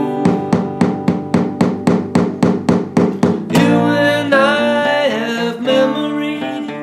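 Acoustic guitar plays the two-measure break of a song: about a dozen quick, evenly repeated strummed chords, then a sustained ringing chord with shifting notes, close and loud with no voices.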